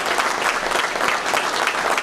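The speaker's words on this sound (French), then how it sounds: "j'aimerais qu'on donne une bonne main d'applaudissement à Ronald Cormier" Dense, steady applause from a crowd at a chamber of commerce president's cocktail reception, loud and continuous for its full length, with no voices over it.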